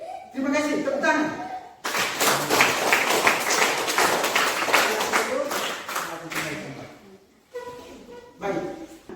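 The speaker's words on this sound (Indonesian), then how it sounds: "Tepuk tangan" Broadband crowd applause from a classroom group after singing the Indonesian anthem, sustained for several seconds at moderate loudness, with a voice speaking before and after.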